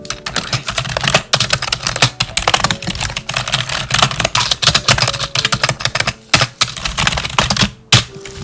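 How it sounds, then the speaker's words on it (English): Rapid, steady typing on a computer keyboard, close and crisp, with dense clicking keystrokes and brief pauses, no talk. "Sorry, I love typing this."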